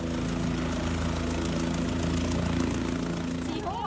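Steady loud rotor and engine drone of a helicopter fills the whole clip, with a crowd of voices chattering underneath.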